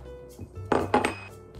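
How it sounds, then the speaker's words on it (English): A knife scrapes and taps against a crispy toasted bagel on a plate, giving a few close clinks and scraping strokes in a quiet room. "Let's butter it up."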